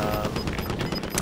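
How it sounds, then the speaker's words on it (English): A magnum pistol headshot in the video game Warzone, heard as loud, close gunfire packed into a brief, busy burst of noise. "One shot, one kill. Magnum headshot."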